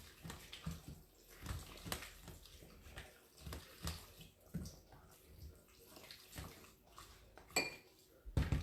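Sour cream being stirred into beef stroganoff in a pan, a spoon scraping and clinking against the cookware in soft, irregular strokes, with wet squelching close by and a louder clatter at the end.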